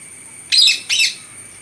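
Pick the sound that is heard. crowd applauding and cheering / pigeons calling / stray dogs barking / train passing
pigeons calling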